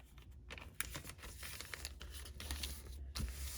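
Paper is creased and folded into accordion pocket flaps for a card-making craft project, making soft, close crinkles and quiet crackles.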